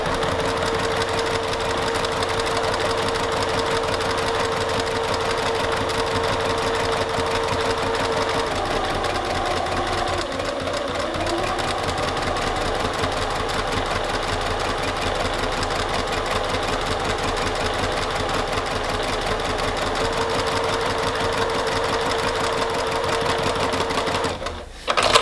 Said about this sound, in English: I'm just going to rotate these around so that I can stitch on the opposite edge of the line.